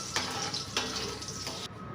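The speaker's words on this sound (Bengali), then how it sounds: "ঘিয়ের মধ্যে বাদামগুলো ভেজে নেব।" Nuts frying in ghee in a kadai while making semolina halwa give a continuous close sizzling hiss with faint crackles and a few small stirring clatters, with no talking.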